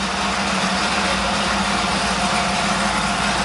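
A restored 1959 Chevrolet Apache half-ton short-bed stepside pickup with a 350 V8 idles steadily and continuously, a deep, even rumble close by with no talking.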